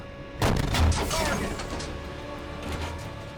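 A heavy M1A1 tank cannon fires a sabot round in a combat video game, with one sharp, loud blast followed by a long rumbling decay and a fainter second report later.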